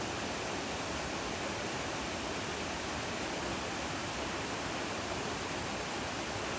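Water rushing steadily through dense jungle ground, a constant broadband wash with no breaks, fairly close and with no voices over it.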